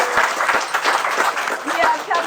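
Applause from a crowd of elected officials and guests at a campaign endorsement event for a District 2 supervisor candidate, honoring a former Capitola mayor, steady and dense with chatter and voices mixed into the clapping.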